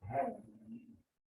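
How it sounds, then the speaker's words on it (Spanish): A small dog gives a single short, whining howl-bark of about a second from the background, followed by silence. "Disculpen si se escucha una especie de aullido al fondo, que estoy aquí con mi perrita"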